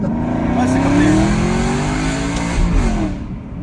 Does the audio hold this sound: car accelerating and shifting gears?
yes